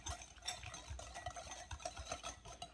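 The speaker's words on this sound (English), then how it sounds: "Give that a whisk." A whisk stirs a pork marinade seasoned with black pepper in a bowl, with soft, quiet scraping and clinking strokes in an irregular rhythm and no voices.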